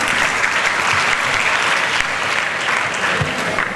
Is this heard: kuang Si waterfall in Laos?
no